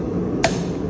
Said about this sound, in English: Give that a couple more taps.